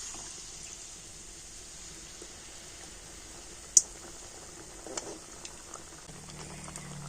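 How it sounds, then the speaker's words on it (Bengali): Mung dal poa pitha batter frying in hot oil, giving a steady soft bubbling hiss throughout with one sharp pop near the middle and a few smaller crackles later, no voices. "এবার আমি এক হাতা ব্যাটার নিয়ে এই প্লেটের উপরে দিয়ে দেব আর এটাকে এবার আমি তেলের মধ্যে ছেড়ে দেবো"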